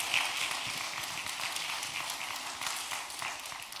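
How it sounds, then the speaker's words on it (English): Big round of applause from the audience for panelists at the close of a probate and estate planning summit, steady, dense clapping filling the room for several seconds without speech. "let me just ask everyone to give our panelists another big round of applause"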